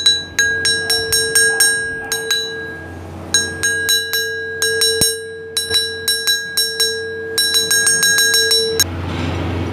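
A ranat lek, a Thai metal-bar xylophone homemade by the player's father, rings out in bright struck notes, runs of quick strikes separated by short pauses, each tone sustaining and decaying, close and loud with no talking.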